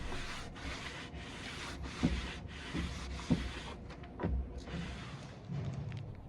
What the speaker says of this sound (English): I'm giving the whole piece a wipe down with a damp rag